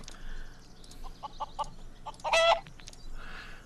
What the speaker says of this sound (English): Let's kill some chickens.